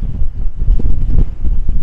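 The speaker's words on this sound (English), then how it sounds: "It's so windy." Strong gusty wind in St. Maarten buffeting the microphone, a rough low rumble that surges and dips unevenly, with no voices.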